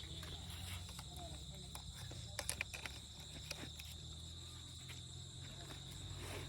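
Many insects flying at night, a steady high cricket-like buzzing and chirring running throughout over a low hum, with a few faint taps and some quiet talk.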